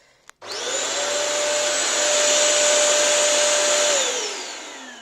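A Bissell CrossWave wet floor cleaner switches on after a brief click, whining loudly and steadily with a high-pitched tone and rushing air, then winds down at the end.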